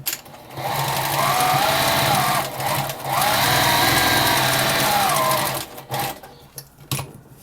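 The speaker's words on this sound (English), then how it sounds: "Turn, sew off the corner, lift and fold it down again." A sewing machine stitches a quilted potholder, loud and close, running in steady whirring bursts that stop briefly for a pause and then trail off into short spurts near the end.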